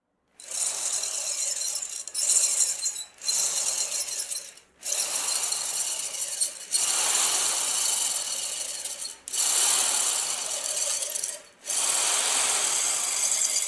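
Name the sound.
electric drill spinning a wooden dowel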